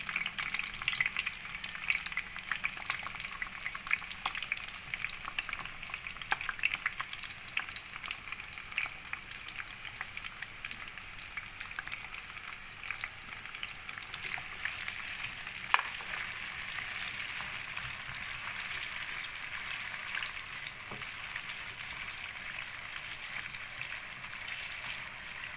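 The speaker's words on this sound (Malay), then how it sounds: "ini cili bangala, kita nak goreng dia dahulu dalam 2 biji ya" Continuous crackling sizzle of yellow and red bell peppers frying in oil, with occasional stirring scrapes, close and steady throughout, no voices.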